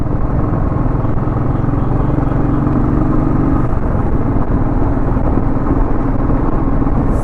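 A motorcycle riding on the road at around 60, a constant loud engine drone and rumble with wind buffeting the rider's microphone throughout, no pauses.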